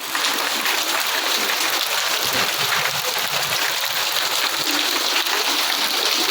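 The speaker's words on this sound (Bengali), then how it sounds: "যে বৃষ্টি আরম্ভ হয়ে গেছে, বৃষ্টি নেমেছে" Steady rain falls during the Shravan monsoon month, a dense, even wash of water noise that stays constant from start to finish with no voices.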